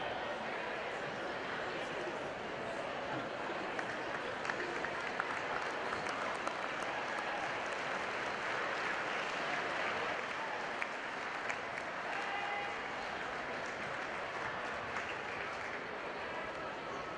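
Steady crowd applause from spectators at a high school varsity game honoring student athletes, a continuous dense wash of clapping heard from a distance at even volume throughout.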